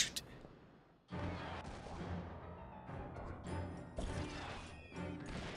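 Shooting attacks in the video game Psychonauts: a burst of loud, crashing blasts and impacts that starts abruptly after a brief quiet moment and continues densely, with sharper hits recurring near the end.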